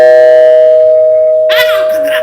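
A doorbell rings with a steady sustained electronic tone, followed by a brief burst of higher chiming notes near the end, loud and close, with voices nearby.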